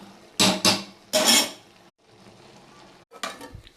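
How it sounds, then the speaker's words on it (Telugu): Chili, coriander and cumin powder are stirred in a frying pan with tomatoes for an eggplant-tomato curry: sharp scraping strokes of a spoon against the pan come in bursts, with a soft sizzle between them. "తర్వాత కారం, ధనియా పొడి, జీలకర్ర పొడి ఇవన్నీ తిప్పుకోవాలి"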